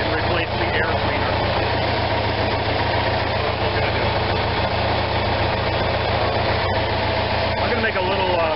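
Onan RV generator engine running rough at idle, a steady loud low drone with uneven throb, continuous throughout with faint clatter over it.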